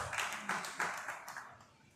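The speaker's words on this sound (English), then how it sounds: "Please clap for them and clap for our chairman too." A small audience at a journalists' union end-of-year party claps for their chairman, a few distinct sharp claps spaced irregularly and fading out, faint and close with room echo.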